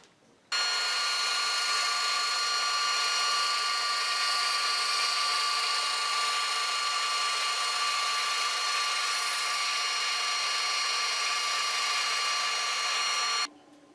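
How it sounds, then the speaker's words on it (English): A steady, high whine of a saw cutting a thin strip of walnut about thirty thousandths of an inch thick against an Accu-Slice fence runs evenly for about thirteen seconds, starting and ending abruptly. "Cut a board around 30 thousandths of an inch thick."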